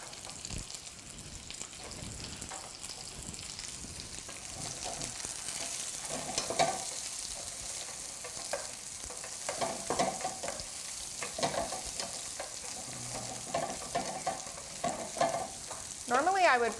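Onions fry in a pan with a continuous close sizzle, punctuated by scraping and stirring clatter, with no voice over it.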